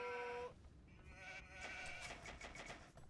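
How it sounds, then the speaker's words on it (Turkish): Sheep bleat in a video game, a few wavering cries, one up front and more following, faint and distant amid light clicking interface noise, with no talk. "Aa koyun."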